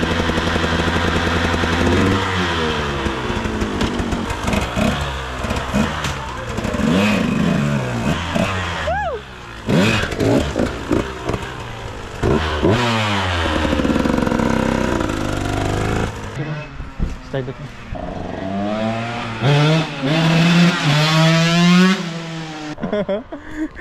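A new motorcycle engine revs hard and loud close by, surging and dropping through repeated throttle bursts as the bike lifts into a wheelie, with people talking over it.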